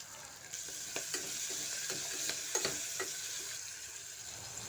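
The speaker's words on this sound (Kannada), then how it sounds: "ಈಗ ಇದಕ್ಕೆ ಉಪ್ಪನ್ನ ಸೇರಿಸಿ ಫ್ರೈ ಮಾಡ್ಕೊಳ್ತಾ ಇದ್ದೀನಿ" Chopped vegetables fry in oil with salt for a vegetable pulao, giving a faint, steady sizzle with light scraping stir strokes at irregular intervals.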